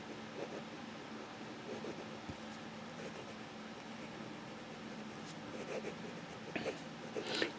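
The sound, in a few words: fountain pen nib writing in reverse on paper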